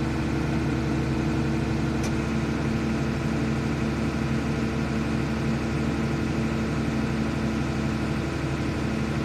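New Holland T6.175 tractor diesel engine running steadily close by, a cold engine held near idle with a constant low rumble and no clear rise in revs.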